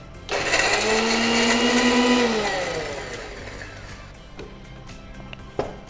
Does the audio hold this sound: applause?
no